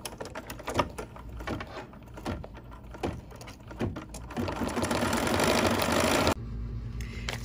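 A sewing machine stitches a decorative edge around fabric palm shapes on a quilt, first with rhythmic needle thumps and then with a steadier, busier whir that stops abruptly near the end.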